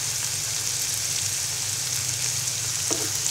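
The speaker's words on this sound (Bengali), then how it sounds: "যতক্ষণ পর্যন্ত আমার সবজিগুলো সেদ্ধ না হচ্ছে ততক্ষণ পর্যন্ত আমি সবজিগুলো ভাজতে থাকবো।" Vegetables frying in a pan with soy sauce, lemon juice and chili sauce, a steady dense sizzle throughout with a brief clink of stirring near the end.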